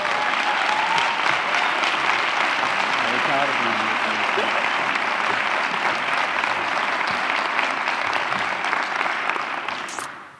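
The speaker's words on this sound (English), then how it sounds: "Let's give Jackie Newsom a round of applause as I welcome her to the podium." An audience at a school district State of the Schools event applauds as public defender Jackie Newsom comes to the podium, loud steady clapping that lasts about ten seconds before stopping.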